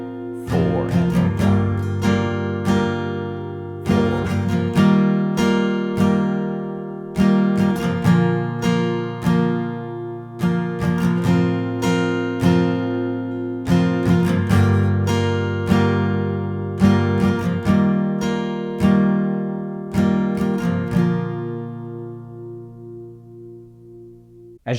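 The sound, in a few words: acoustic guitar strumming chords of a song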